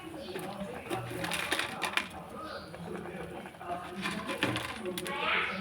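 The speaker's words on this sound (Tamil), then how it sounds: "நம்ம மேகி அப்படியே போட்டுடலாம்." Dry Maggi instant noodles crunch and clatter as they drop into a pot of boiling water, brittle cracking bursts repeating close by, with a voice speaking over them.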